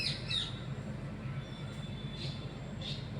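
A bird gives a few short, faint chirps outdoors in front of a house, spaced apart over a quiet, low background hum.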